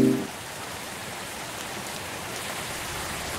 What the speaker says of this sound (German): Und wieder es regnet. So wie jede Nacht, jeden Tag.